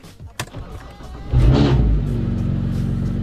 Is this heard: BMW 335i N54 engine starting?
yes